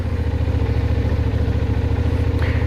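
A CFMOTO 450SS motorcycle engine running steadily during braking practice on a gravel lot, a close, even mid-pitched thrum with a faint clatter and no talk.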